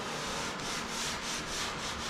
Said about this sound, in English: we're just doing a little bit of touch-up sanding